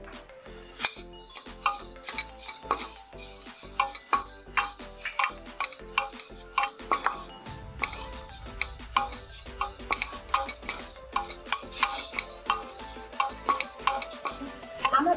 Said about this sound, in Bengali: এখন আমি ওয়ান ফোর্থ কাপ ওটসটা ভেজে নেবো